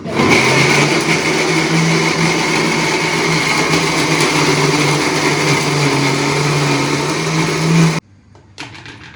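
An electric blender grinds coconut for a milk shake, a loud steady whirring drone that runs continuously, then cuts off abruptly near the end, leaving faint clatter.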